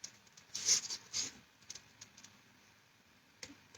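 Scissors snipping through card while fussy cutting a small paper flower, with two close, crisp bursts of cutting early on, then quieter faint snips and rustles of the card being turned.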